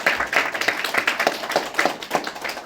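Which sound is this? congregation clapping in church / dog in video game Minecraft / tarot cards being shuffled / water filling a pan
congregation clapping in church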